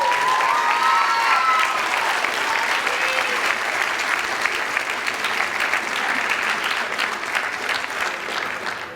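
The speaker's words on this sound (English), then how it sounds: "if we get a round of applause for them" A live audience at a speech night gives contestants a round of applause, a steady dense wash of clapping lasting throughout, loud and close, with a few faint voices and cheers mixed in.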